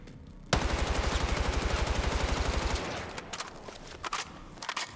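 Battlefield 6 gunfire from the hip into a wall: a fast automatic burst of evenly spaced, punchy shots runs for over two seconds, then fades into scattered clicks and softer thuds.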